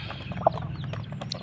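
Ginni breed chickens and a black crossbred rooster give soft, scattered clucks at close range over a low background hum, with no talking.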